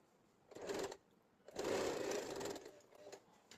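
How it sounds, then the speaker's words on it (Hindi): A sewing machine stitches leftover fabric in two bursts, a short run and then a longer steady one, each a close, even mechanical whir with quiet pauses between. "वहां पर हम सिलाई लगा लेंगे"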